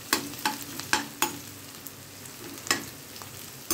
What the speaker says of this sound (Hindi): मेरा ये प्याज ब्राउन हो रही है